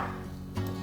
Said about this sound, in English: just give 3 to 4 whole carrots a rough chop